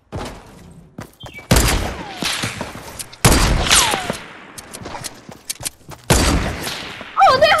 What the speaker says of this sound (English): I have a hunter rifle though.